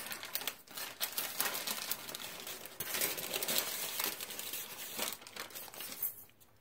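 A homemade tortilla peeled off its backing, a steady close crinkly crackling and soft tearing texture over several seconds, quiet and with no voices.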